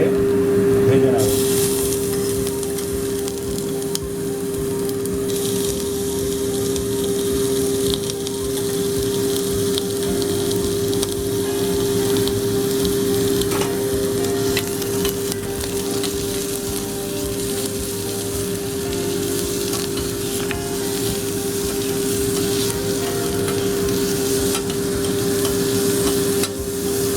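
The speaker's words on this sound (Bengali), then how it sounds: "এরপর আমি এর মধ্যে চিংড়িগুলো দিয়ে ভেজে নেব।" Small prawns fry in hot oil in a pan for ichar chingri, a steady loud sizzle lasting throughout with stirring scrapes, while someone talks over it.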